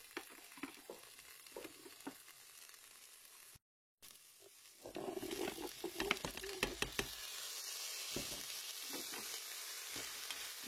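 Red bean dish stirred in a cooker's wok function, a steady sizzle with scraping spoon strokes and light knocks, close by, after a brief gap.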